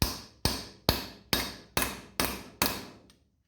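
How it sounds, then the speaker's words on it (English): A ball peen hammer strikes a metal kickstand mount seven times at a steady pace, bending it into a slight curve for an e-bike bobber build. Each blow is a sharp, close metallic clang with a short ringing decay. "take our little trusty ball peen"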